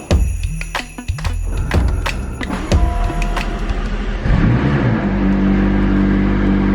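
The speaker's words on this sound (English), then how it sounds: "It's time to bring out the McLaren and get it warmed up for the drag races." A McLaren 600LT warms up, its engine settling into a steady, loud idle drone after a stretch of clicks, whirs and mechanical startup noises.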